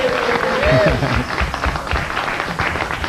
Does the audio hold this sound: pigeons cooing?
no